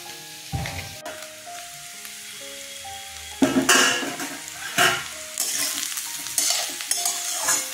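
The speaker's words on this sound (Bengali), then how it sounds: "আলুটা ভাজা হয়ে গেছে," Potatoes frying in oil in a kadai for a sapla (water lily) dish, a steady close sizzle broken by several loud metallic scrapes and clanks of a spatula stirring, with no voices.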